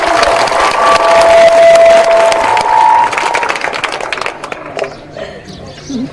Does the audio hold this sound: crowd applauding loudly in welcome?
yes